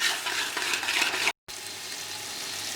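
Chicken masala fries in ghee with a loud, dense sizzle. A brief silent gap breaks it partway through, then the steady frying hiss resumes.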